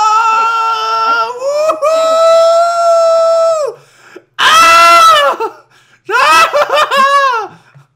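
Loud, high-pitched robot screams and wails from a grabbed character in the VR game Mass Exodus, coming in three long wavering bursts with short gaps between them, close and piercing.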